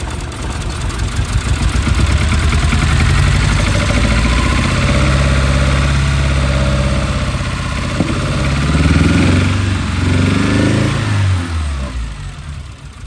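A Mitsubishi 4G64 DOHC car engine runs loudly up close, its rumble rising and falling as it revs several times before settling back.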